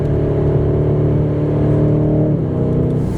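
The V8 of a 2019 BMW M850i revs as it downshifts on the paddles, a loud, close, steady engine drone that drops in pitch toward the end.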